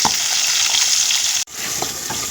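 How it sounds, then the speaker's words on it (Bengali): Water poured into a sizzling green banana and potato curry makes a rushing, gushing splash over the frying hiss. The sound cuts off briefly partway through, then a softer sizzle resumes. "এবার আমি সামান্য জল দিয়ে দেব।"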